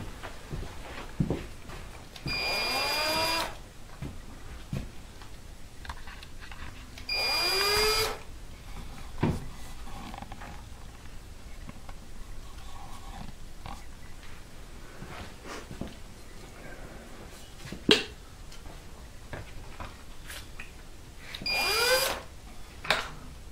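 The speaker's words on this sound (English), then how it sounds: "just go ahead on the other three and just countersink them and test them" A power drill countersinks screw holes in an electric guitar build, three short whirring bursts spaced several seconds apart, each rising in pitch, over a quiet workshop background with occasional clicks and knocks.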